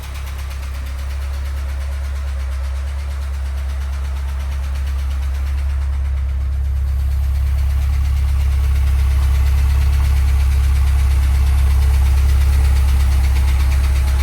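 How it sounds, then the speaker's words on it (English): A Porsche 944 engine idles steadily and close up, a deep even rumble with a slight lifter tick ticking underneath, gradually growing a little louder. "Got a little bit of a lifter tick, but that'll go away."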